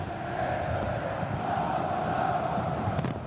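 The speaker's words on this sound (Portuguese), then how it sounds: "A torcida do Vasco está animada." Vasco supporters packing São Januário stadium for a Carioca league match against Botafogo, a broad, continuous roar of crowd noise with chanting voices merging into a steady distant wash, no single voice standing out.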